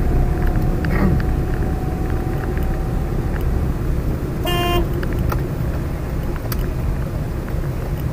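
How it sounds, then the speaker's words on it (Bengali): A car horn gives one short toot at a blind corner, heard over the steady rumble of the car's engine and road noise, with faint traffic sounds around it. "যেহেতু ব্লাইন্ড কর্নার ছিল,"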